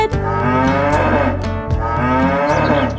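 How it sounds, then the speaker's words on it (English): Long, loud, drawn-out moos from dairy cows with a rich harmonic tone, two main calls close together, set inside a children's song. "I stopped when I saw some dairy cows to see what they would say."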